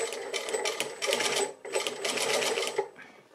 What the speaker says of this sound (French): Et je vais piquer comme ça tout le long, le plus régulièrement possible.